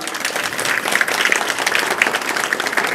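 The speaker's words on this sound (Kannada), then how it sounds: "ವೇದಿಕೆಗೆ ಬರುತ್ತಾನೆ, ಜರ ಚಪ್ಪಾಳೆ ಹೊಡ್ರಿ ನೋಡ" A crowd claps steadily and densely, welcoming the religious seer Dr. Rudramuni Shivacharya onto the stage at a Sharanabasaveshwara Purana discourse, the applause sustained and fairly loud throughout with no talk over it.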